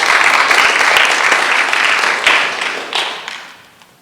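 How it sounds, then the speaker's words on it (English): An audience claps loudly for a high school student presenter at a school board meeting; a dense, close round of applause that tapers off toward the end. "Clap it up for Quincy."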